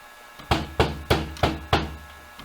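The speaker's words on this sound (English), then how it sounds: "Finally, a knock on the door." Five firm knocks on a door land in an even, deliberate rhythm, each sharp and close with a short woody ring, with no voices.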